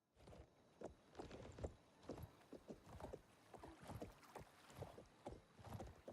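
A horse's hooves clip-clop at a steady walking pace in Oblivion Remastered, a soft repeating clatter of footfalls with faint ambient background and no talking.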